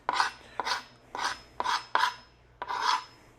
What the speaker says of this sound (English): I have lemon, some lemon zest.